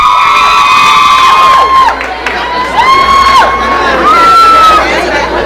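A loud crowd cheers, whoops and shouts in repeated bursts, with high excited voices rising and falling over a steady roar, at a live podcast event.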